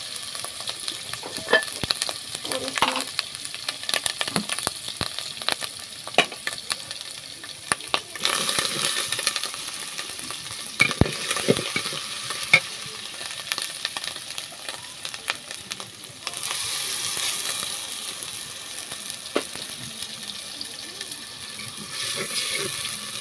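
Potato and shrimp curry sizzling in a pan in a village kitchen, with continuous frying hiss, bursts of louder sizzle and scraping stir strokes close by.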